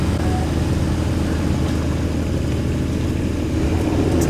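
A sports car idles in a convoy of cars with the top down. A dense, steady low engine rumble holds throughout and sounds close, with no talk over it.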